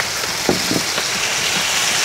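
Rain falls steadily in a broad, continuous hiss with a few soft drip-like taps, heard alone without talk.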